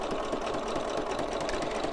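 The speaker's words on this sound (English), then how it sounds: "I don't know if you'll be able to hear me over the sewing machine" A sewing machine stitches fabric in a continuous, fairly loud whirring run with a fast, even mechanical rhythm, close up with no talking.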